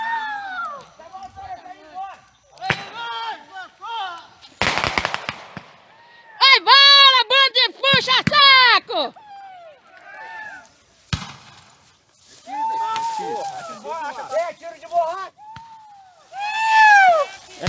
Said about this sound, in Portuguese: É bomba! Bomba de gás!